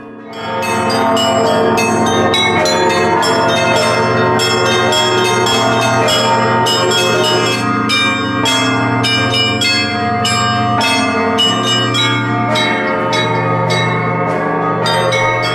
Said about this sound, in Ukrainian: Передзвін нагадав всім героїчні вчинки ченців собору під час кровавих днів Євромайдану.